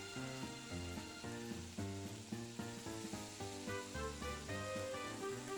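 Finely chopped green eggplant for a roadside-style chutney sizzles steadily in hot oil, a continuous frying hiss at close range with light stirring scrapes running through it, alone without talk.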